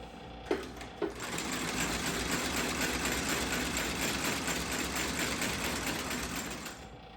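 Sewing machine stitching the welt of a boot in black and red thread, running steadily and loudly for several seconds after a couple of sharp starting clunks, with no talk.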